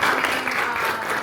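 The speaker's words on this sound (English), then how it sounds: "big round of applause for panelists here" A brief burst of steady audience applause for panelists at a company visit event, dense and continuous clapping throughout.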